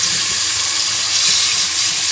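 Water poured from a glass into a cooking pot, about two to two and a half glasses for half a kilo of rice, makes a loud, continuous hissing splash close by.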